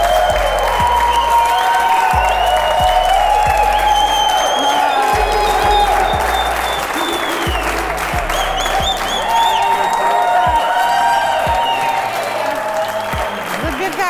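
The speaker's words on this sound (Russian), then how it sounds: "когда педагог входит, да, всегда все хлопают" A group of students applauds as a teacher enters a dance class, sustained loud clapping from many hands filling the room, with voices and a bright musical tone running over it.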